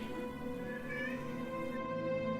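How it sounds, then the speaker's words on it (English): A cat meows faintly in the background, a drawn-out wavering call, heard against steady room noise with no speech. "I hear a cat meowing."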